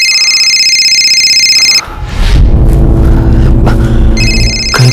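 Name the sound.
telephone ringing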